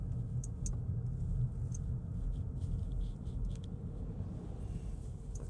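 A Ford Maverick Hybrid pickup drives in Sport mode, heard from inside as a steady, low road and engine rumble with faint light ticks above it.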